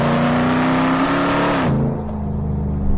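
A Hennessy Mammoth truck's engine pulls hard, its revving tone climbing steadily before dropping sharply at a gear change and building again, loud and close throughout.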